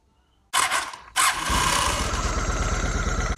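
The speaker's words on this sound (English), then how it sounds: "We'll start it right back up again." Honda Shadow motorcycle engine cranking briefly, then catching and settling into a loud, steady, close idle that continues to the end, with no one talking.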